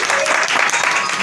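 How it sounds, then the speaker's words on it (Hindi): Studio audience applause at a radio broadcast after a recited poem, loud and steady clapping throughout. "तालियों"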